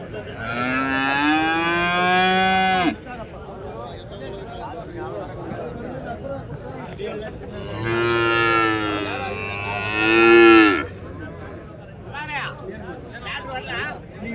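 Calves moo loudly and at length at a cattle market in Chintamani, two long bellowing calls separated by a pause, with a crowd chattering in the background.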